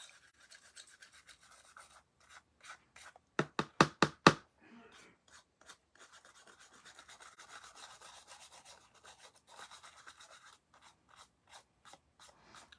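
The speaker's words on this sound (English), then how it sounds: "We just want to get as much of it off as we can and burnish it down." Gold leaf being rubbed off and burnished down on a gilded surface: quiet, close brushing and rasping strokes throughout, with a quick burst of four or five sharper taps near the middle.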